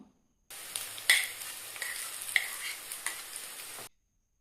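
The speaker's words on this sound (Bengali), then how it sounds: "ভেজে রাখা গাজর ক্যাপসিকাম ও বিনসগুলো দিয়ে হালকা করে ভেজে নেব যাতে ঘিয়ের ফ্লেভারটা সবজির ভেতরে আসে" Carrots, capsicum and beans stir-fried in ghee for restaurant-style mixed fried rice give a steady close sizzle, with a few sharper spatula scrapes and stirs across about three seconds before the sound cuts off.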